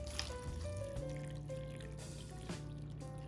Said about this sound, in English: I'm going to take my room temperature water from out of my measuring cup and pour it to the inside line